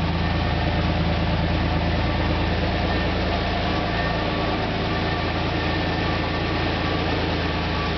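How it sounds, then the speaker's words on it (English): Car engine idling steadily with a light turbo-style whistle from a sound-effect device mounted in the exhaust, a continuous low rumble held at even loudness throughout. "I do have like a turbo sound effect thing mounted in an exhaust."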